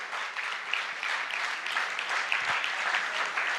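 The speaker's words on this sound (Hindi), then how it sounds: "एक बार जोरदार तालियां उनके लिए भी बजाइए।" An audience at a women's strength-building session applauding loudly, a continuous wash of many hands clapping at a steady level through the whole stretch, with no voices on top.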